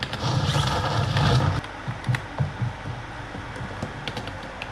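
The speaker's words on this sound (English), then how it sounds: "Keyboard sounds so good." Quick, clicky mechanical keyboard key presses on a Razer Huntsman TE, tapping in an irregular rhythm, close up, after a brief burst of louder rustling noise at the start.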